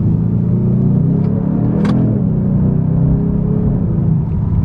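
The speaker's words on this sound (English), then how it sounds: "that was a little more than half throttle, and it puts you back in your seat" Hyundai Genesis with a turbocharged engine accelerating at a little over half throttle, a loud continuous low rumble heard from inside the car, steady throughout with no talk.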